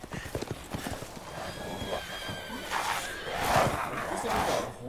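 Rapid horse hoofbeats clatter in quick rhythm in the video game Resident Evil Village, followed by a loud horse whinny near the end, with faint talk underneath.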